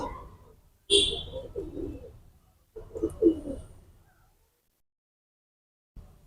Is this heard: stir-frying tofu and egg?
no